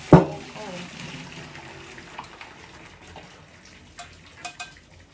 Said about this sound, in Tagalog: Since luto na, i-drain ko na.